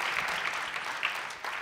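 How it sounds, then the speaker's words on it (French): Audience applause at a round-table discussion, a brief steady wash of clapping at moderate level. "vous pouvez les applaudir"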